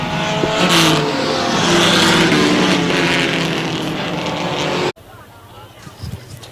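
A race car engine revs hard after the finish of a race, a loud, steady roar that holds for several seconds and then cuts off abruptly, with an announcer talking over it.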